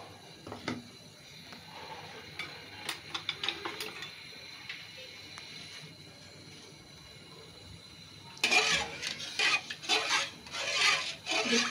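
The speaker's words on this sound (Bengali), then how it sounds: "এখন আমি এটার মধ্যে পোলাওর চালটা যে আগে থেকে ভিজিয়ে রেখেছিলাম সেটা দিয়ে দিচ্ছি" Soaked polao rice stirred into thickened milk for payesh produces intermittent scraping and clicking against the pot, quiet at first, then a louder burst of rapid scraping toward the end.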